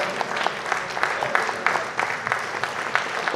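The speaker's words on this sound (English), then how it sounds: "I think we should all stand up and give a round of applause to Manu Bhai" Applause from an audience at an event, steady clapping from many hands close by, continuous for the whole moment with a faint murmur of voices beneath.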